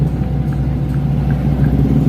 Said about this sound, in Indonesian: Mobil lewat ya nih.